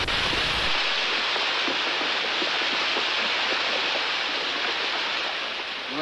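Water rushes steadily and loudly through an opened irrigation head gate, a continuous broad roar close by with no voices over it.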